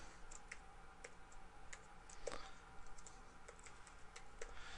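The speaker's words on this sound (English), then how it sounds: "I'm just going to type in the name of my project." Keys on a computer keyboard tapped in a quick irregular run while a project name is typed for saving a map template, soft clicks scattered through a quiet room with one louder click near the middle.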